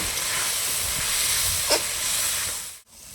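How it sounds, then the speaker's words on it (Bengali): A spice paste of ginger, turmeric, chili and cumin fries in a pan with a little water, giving a steady close hiss that cuts out briefly near the end. "আদা বাটা নুন হলুদ গুঁড়ো লঙ্কার গুঁড়ো জিরার গুঁড়ো সামান্য পরিমাণে একটু জল দিয়ে মশলাটাকে ভালো করে কষিয়ে নেব"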